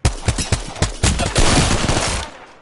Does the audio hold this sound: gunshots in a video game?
yes